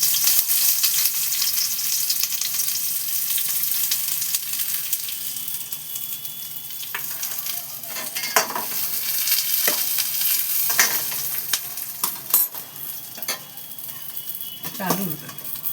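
Chopped onions sizzle steadily in hot oil mixed with ghee for a biryani, a continuous close frying hiss with occasional stirring scrapes and light clinks, no talking.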